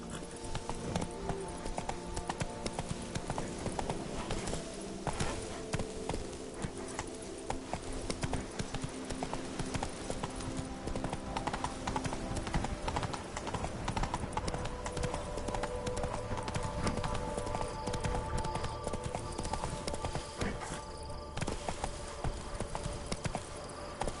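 Roach the horse trotting in The Witcher 3: Blood and Wine, a steady clip-clop of hooves running continuously at close range over a busy backdrop of game music and ambience.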